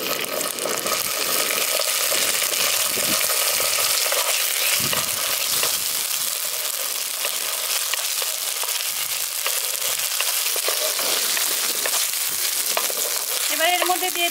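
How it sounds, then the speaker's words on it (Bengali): Fried onions sizzling in a pan as ginger-garlic paste goes in, a steady crackling hiss with scraping and stirring noises mixed through, fairly close and moderately loud. "পেঁয়াজগুলো এখানে ভাজা হয়ে গেছে, এবার এর মধ্যে দিয়ে দিচ্ছি আদা রসুনের পেস্ট"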